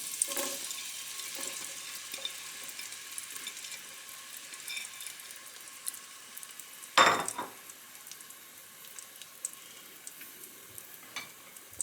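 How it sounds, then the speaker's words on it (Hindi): Onions fry in melted ghee for mutton nihari, making a steady, quiet sizzle throughout with a brief, louder clatter of a utensil partway through. "जैसे ही हमारा घी मेल्ट होगा तो ओनियन डाल देंगे।"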